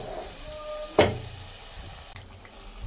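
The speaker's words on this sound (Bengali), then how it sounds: "এটাকে এখানে তেলের মধ্যে মালপোয়ার আকারে ভাজবো" A ladleful of semolina and chhena batter hits hot oil for malpua-style ras pithe, a sudden sharp sizzle that settles into a soft, steady frying hiss with a small clink near the end.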